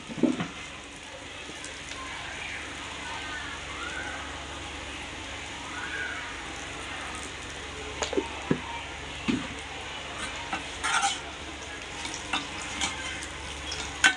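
Salted taro root (chema dumpa) fries in a pan with a steady, close sizzle and scattered pops and crackles, with no talking.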